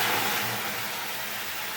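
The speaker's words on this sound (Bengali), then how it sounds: "আমার রাস্তার ধারে ঘর, খুব গাড়ির আওয়াজ হয়।" Car traffic passing on a road beside a house, a steady engine rumble and road noise running continuously through the short stretch with no talking.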